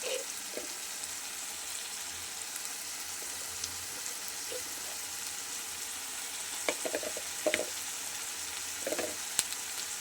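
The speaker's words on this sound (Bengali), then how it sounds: "দু চামচ হলুদ দিয়ে দিলাম এবং মশলাটাকে আমি এর সঙ্গে ভালো করে আগে কষিয়ে নেব" A spice paste of turmeric and salt sizzles and fries steadily in a pan for a prawn and banana flower dish, with a few sharper crackles and stirring scrapes.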